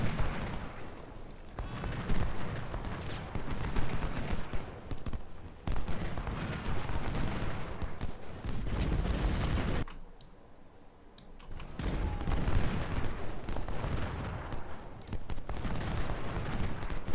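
Cannons fire in the Civil War video game Ultimate General: Civil War at Fredericksburg, dense bursts of booming blasts and crackling shots rolling almost continuously, with a brief quieter lull before the barrage resumes, plus occasional sharp clicks.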